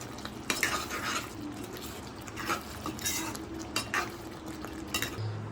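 Ghee-laced potol filling with chhana and shahi garam masala being mixed in a pan, giving soft repeated scraping and clinking of a spoon against metal with faint background hiss, close and moderately quiet, no talking.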